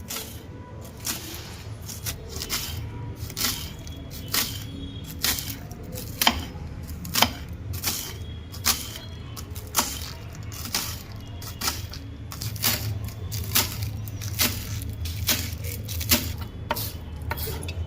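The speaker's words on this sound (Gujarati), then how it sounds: "સવાસો ગ્રામ લીલી ડુંગળીનું ઝીણું ઝીણું કટિંગ કરી નાખીએ" A knife finely chops green onions in steady, evenly spaced strikes, about one per second, each a crisp close tap repeated throughout with no speech.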